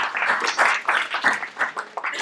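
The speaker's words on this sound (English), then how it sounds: "Round of applause, please, Tom." An audience gives a round of applause, with dense continuous clapping from many hands close by, steady and lively throughout.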